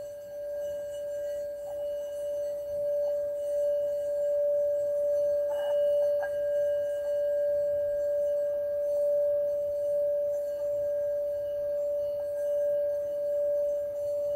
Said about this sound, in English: You will now hear the sound of the Tibetan singing bowl.